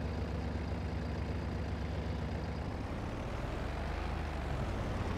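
A tractor in Farming Simulator 22, a turbo version working a potato field on cruise control, drones with a steady low engine rumble, loud and continuous throughout, its pitch shifting slightly about midway.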